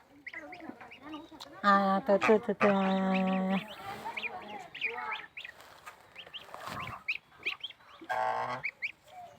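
Young geese in a village yard honk and peep while eating grass, with loud nasal calls in bursts and quieter chatter between them, heard close up.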